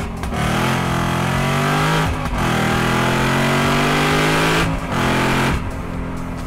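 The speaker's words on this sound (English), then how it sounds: "I love how this exhaust sounds" A supercharged Ford Mustang's Ford Performance by Borla exhaust roars as it accelerates through the gears, pitch climbing then dropping at each shift, loud and close, with a supercharger whine underneath.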